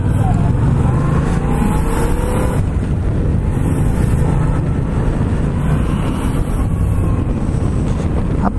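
A Yamaha MT-07 motorcycle accelerates hard on a city street, giving a loud, steady engine and wind roar that runs the whole way through, with a rider's voice partly heard over it.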